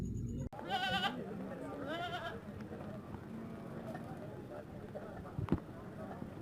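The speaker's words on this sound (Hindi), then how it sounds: "अबलख बकरी है जी" A piebald goat (abalakh breed type) bleats at a livestock market, with wavering calls near the start and again around two seconds, heard close under market noise and someone talking.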